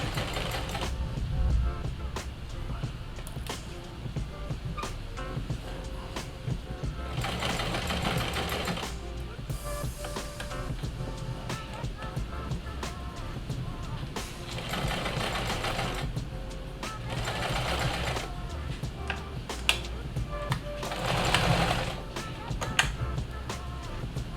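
Sewing machine stitching thick fabric panels for outdoor patio furniture cushions, running in repeated bursts with short pauses, a close rapid mechanical chatter with faint background talk at times.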